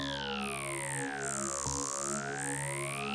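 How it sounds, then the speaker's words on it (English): Synth preset in FL Studio slowed with a halftime effect, a sustained tonal chord with gliding, sweeping pitch movement and a dip in the middle, steady and moderately loud with no voices. "the first thing I did was add this halftime effect."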